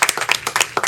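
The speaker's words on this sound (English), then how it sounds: "Let's give them a round of applause." A small group claps for a short, sparse stretch at a coaching session, with individual hand claps audible in loose bursts rather than a full ovation.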